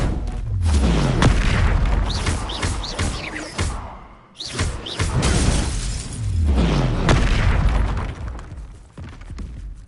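Heavy booming impacts from the Descendo spell in a Hogwarts video game, loud crashing blasts with shattering debris that swell, fade out briefly near the middle, then rumble back up.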